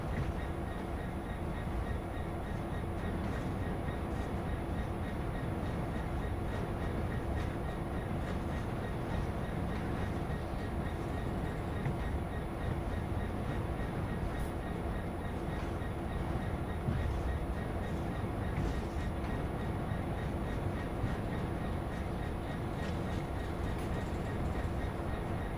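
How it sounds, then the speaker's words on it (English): Steady rumble of a train running in the Train Sim World video game, continuous low rolling wheel and engine noise with faint clickety-clack, close and even throughout with no talk. "so I'm going to be parking the train here"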